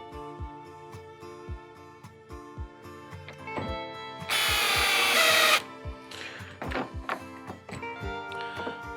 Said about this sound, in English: be careful with doing this with the drill. You want to make sure that you're not cross-threading as you go into that brass insert.